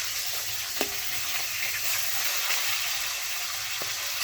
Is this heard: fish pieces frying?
yes